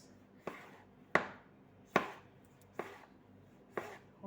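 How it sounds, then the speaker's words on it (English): A knife chops tomatoes into small pieces on a cutting board, five sharp, evenly spaced knocks with brief decays, close and clear over a quiet background, with no talking. "We'll cut our tomatoes into very small pieces."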